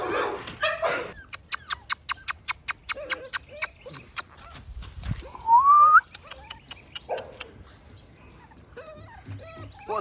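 A dog playing with a squeaky toy: a rapid run of sharp, evenly spaced squeaks, then a long rising squeal, with scattered yips and snuffling close by.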